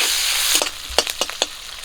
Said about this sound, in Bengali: সব কিছু ভালো করে ভেজে নেবো